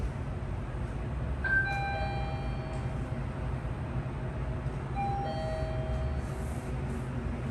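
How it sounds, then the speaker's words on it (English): A Mitsubishi elevator at Grandscape in Texas gives its down chime, two soft ding tones a few seconds apart over a steady ventilation hum, fairly faint and with no voices. "I wish the down chime was a lot louder."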